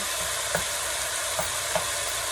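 Fried rice sizzles in a generous layer of oil in a pan, a steady close hiss of frying with a few soft spatters or stirring ticks scattered through it.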